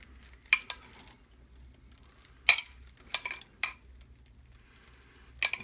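A spoon clinks against a pot as juice is ladled over smoked oxtails, several sharp metallic taps and scrapes spaced irregularly over a quiet background.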